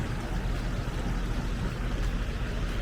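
A small creek flows in a constant broadband rush of water, steady and fairly loud with no pauses, heard alone without voices.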